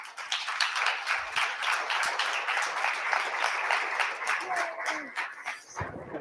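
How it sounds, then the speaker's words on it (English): Workshop audience at a Star Knowledge gathering in Estes Park giving a round of applause, sustained crowded clapping at moderate level with scattered claps and a voice rising near the end. "Give her another round of applause, please"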